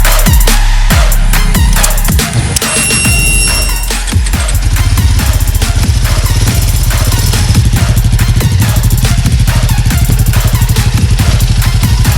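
A new Royal Enfield Himalayan adventure motorcycle engine starts and revs, then settles into a steady loud rhythmic thrum while riding, close up and without speech.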